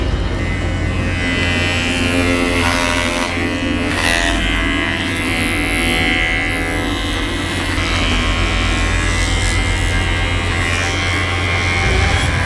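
A close, steady electric hair trimmer buzzes continuously in a barbershop, its droning hum unbroken and fairly loud.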